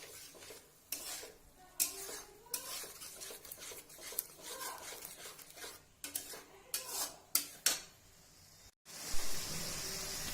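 Egg pav bhaji gravy is stirred in a pan with a spoon, giving irregular scraping clinks against the metal and a faint sizzle underneath, close by with no talking.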